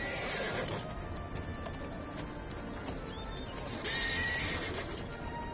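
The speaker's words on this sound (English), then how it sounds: "Right, Jay, stand still with the horse" A horse in a video game gives a loud, drawn-out whinny with clip-clopping hooves beneath, closely heard over game ambience, with no talking.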